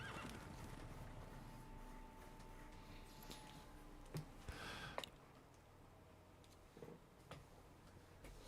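Horses in The Witcher 3, a faint whinny and scattered hoof clops and snorts over a low steady background, quiet and sparse with a few sharper thuds near the middle.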